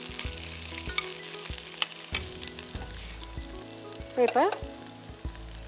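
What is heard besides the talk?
frying adamant creeper and chilies in a pan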